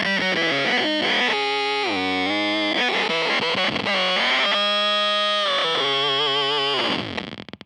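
Electric guitar through a Beetronix Swarm octave fuzz pedal with the Worker knob cranked fully up, a loud, thick, saturated fuzz tone with stacked octaves and no dry signal, playing shifting notes and slides before cutting off abruptly.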